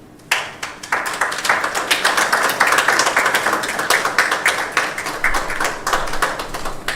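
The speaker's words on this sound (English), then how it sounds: "I think Madam Joyce needs a better round of applause" An audience at a policy conference on gender and extractives breaks into applause for Madam Joyce. The clapping starts abruptly, stays steady and fairly close for several seconds, then thins slightly toward the end.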